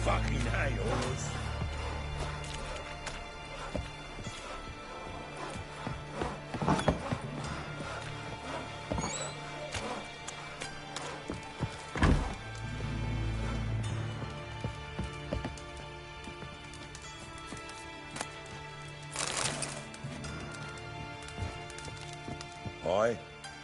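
Horse hooves clip-clop steadily through Witcher 3, a whinny breaking in amid game music, with talk running over much of it.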